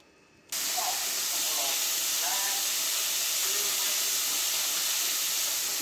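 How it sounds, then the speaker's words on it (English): Shrimp fry in a hot pan, giving a loud, constant sizzling hiss that starts abruptly and continues steadily, with faint voices underneath. "what you hear over there is some shrimp that I'm frying"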